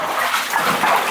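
Feet wade through water in an abandoned weapons-factory mine tunnel, a close, loud sloshing and splashing that runs steadily through the moment.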